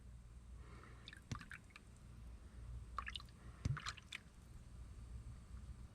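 Brake fluid poured into the reservoir of a 1987 Pontiac Fiero GT during a brake line replacement, giving soft wet trickles and small splashy squishes in short bursts, close and quiet over a low background hum.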